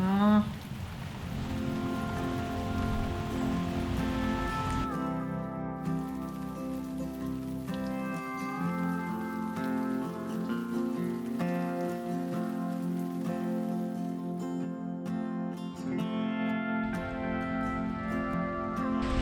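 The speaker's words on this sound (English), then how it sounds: "It is a very rainy day in Paris today" Steady rain falls on a Paris day, a continuous patter on surfaces that runs through the whole stretch with no talking over it, alongside a tonal hum.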